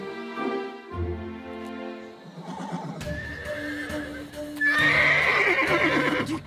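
Cartoon horse in a children's animated Western series, whinnying loudly several times over a galloping clip-clop rhythm, with background music throughout and the sounds growing stronger and busier toward the end.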